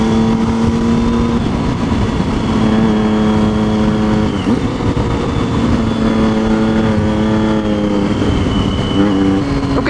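A Triumph Street Triple and a Ducati 959 Panigale motorcycle revving on a Saturday morning in Bath, a loud sustained engine drone with shifting pitch that rises and falls, close and continuous, with no talking.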